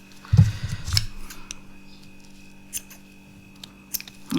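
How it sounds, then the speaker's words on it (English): Scissors snipping yarn ends on a handmade Halloween keyring: a close, brief burst of crisp cutting clicks, followed by quieter faint handling taps. "I'm going to trim that off."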